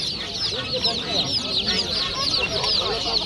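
Two-day-old chicks and guinea fowl keep up a dense, continuous high cheeping at a poultry market, close and loud with no pauses.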